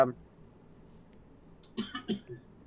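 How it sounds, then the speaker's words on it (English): Someone coughs, a few short harsh bursts close to the mic after a quiet stretch, with a brief throat-clearing sound at the very start. "Who just coughed?"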